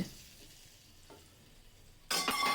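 Small hilsa fish with roe are fried in oil: a quiet stretch gives way to a sudden loud, crackling sizzle that continues to the end.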